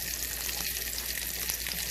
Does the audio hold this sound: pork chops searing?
yes